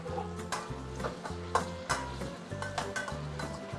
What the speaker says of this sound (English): Stir fry everything.